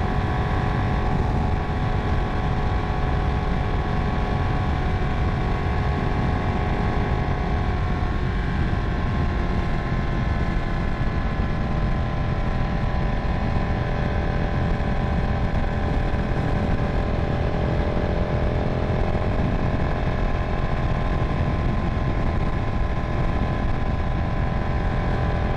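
A vehicle engine drones steadily and loudly on the Rio do Rastro mountain road in Lauro Müller, a continuous rumble with shifting tones that holds alone for the whole stretch.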